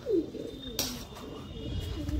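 Pigeons outdoors coo softly and faintly, with a sharp click partway through and low background rumble.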